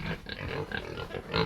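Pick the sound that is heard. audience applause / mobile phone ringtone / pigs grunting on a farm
pigs grunting on a farm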